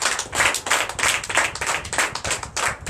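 A church congregation clapping in acclamation for Jesus during a Sunday service in Comé, Benin, loud, rhythmic group clapping in bursts of rapid, evenly spaced beats, close and continuous without talk.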